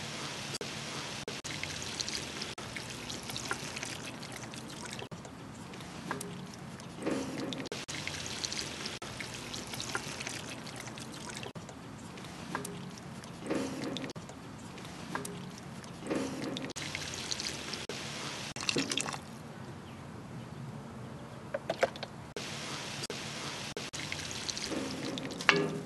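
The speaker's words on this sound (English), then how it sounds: "Now that we're going to add our stock to it, we're going to want to turn that up so it comes to a boil" Stock poured into a Dutch oven over leeks, onions and potatoes, a steady soft liquid pour and trickle lasting over twenty seconds with small splashes, close and fairly quiet, with no talking.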